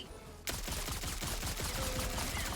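Gunfire in Helldivers 2, heard as a sudden burst of rapid automatic shots that starts abruptly after a quiet moment and continues in a steady, loud, close rattle.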